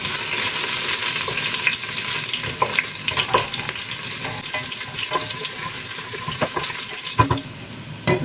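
Onions frying in hot oil in a cooking pot, a steady crackling hiss with scattered louder pops and stirring scrapes, moderately close, with no talking.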